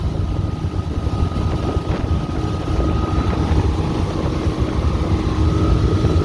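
A 2007 Pro-Line 24 SS motorboat running at full speed of about 35 knots, a loud steady engine roar with rushing wind and water noise throughout.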